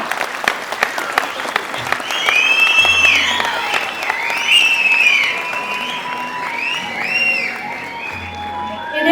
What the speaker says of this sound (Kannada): ಬರಗೂರಿಗೆ ಮತ್ತೊಮ್ಮೆ ನಮ್ಮ ಪ್ರೀತಿಯ ಚಪ್ಪಾಳೆಯೊಂದಿಗೆ